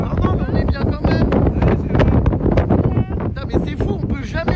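Strong wind gusts at a beach buffet the microphone in a loud, continuous roar, with people talking over it.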